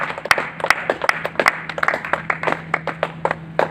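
An audience claps enthusiastically at a leadership event, a brisk run of sharp, dense handclaps that stays close and loud throughout, with no voices over it.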